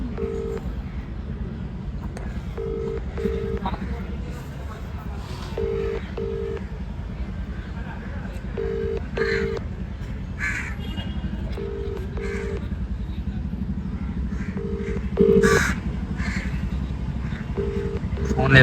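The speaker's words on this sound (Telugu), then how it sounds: "రింగ్ అవుతుంది." A phone call rings back through a handset, its paired ringback tones repeating at a steady rhythm over faint road and wind noise.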